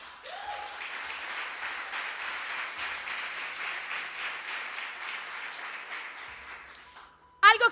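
A church congregation claps in a steady, fairly quiet wash of many hands for several seconds, fading out before a voice speaks briefly at the end.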